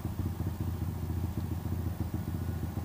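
A Honda Grom or Monkey fitted with an aRacer RCMini5 engine controller, running hard on a top-speed run, its engine a steady close-up drone with a fast pulsing beat throughout and no talking.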